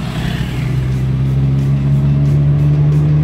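A manual-transmission car engine, close and steady, pulls under throttle after a shift into third gear, its low drone holding loud and continuous with a rising hum and no talk.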